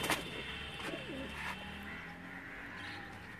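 Pigeon cooing near a handler, with a soft warbling coo rising early in the clip over a steady outdoor background hum, close and moderately loud.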